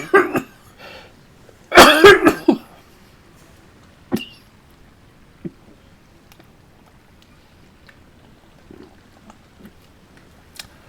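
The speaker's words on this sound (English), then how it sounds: "There is going to be some coughing tonight" A man coughs, with a few sharp bursts up close followed by a cluster of harsh, throaty coughs, then scattered softer throat sounds and small clicks in otherwise quiet surroundings.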